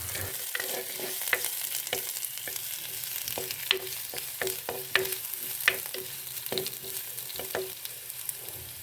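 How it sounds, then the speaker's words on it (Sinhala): Garlic and curry leaves frying in oil with a constant sizzle, crossed by frequent crisp spoon-against-pan strokes in a quick irregular rhythm, close and without any voices. "කරපිංචා ටිකක් දාලා හොඳට මේක කලවම් කරගන්නවා තෙල් එකේ චුට්ටක් බැදෙන්න"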